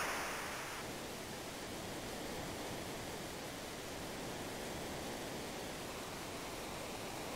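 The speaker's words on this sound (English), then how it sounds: "Down a waterfall." Steady broadband rush of a waterfall in Final Fantasy VI, continuous and even throughout with no voices, a dense hiss filling the whole clip.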